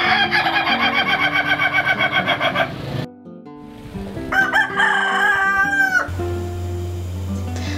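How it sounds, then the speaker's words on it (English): A rooster crows loudly and near in a village setting, a long pulsing call that breaks off, followed by another drawn-out crow and a low steady hum underneath. "The crow of a rooster."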